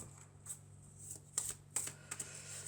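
Tarot cards handled on a table, soft shuffling and a few crisp flicks and slaps as cards are drawn and laid down, quiet and close with gaps between.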